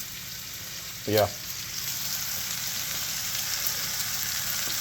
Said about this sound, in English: to sear it real nice